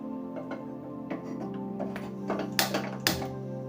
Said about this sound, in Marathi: आपण गॅस चालू करून घेऊया